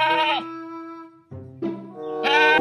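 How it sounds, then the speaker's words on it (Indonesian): A goat bleats in a quavering voice among animal-cleaning sounds, with a second bleat rising near the end, heard close and loud. "Wow, ternyata ini si kambing."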